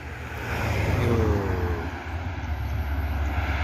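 A Gumarang Jaya intercity bus from West Sumatra bound for Jakarta rumbles past on the road, its engine drone swelling loud and close, then easing into a steady roar as it moves on.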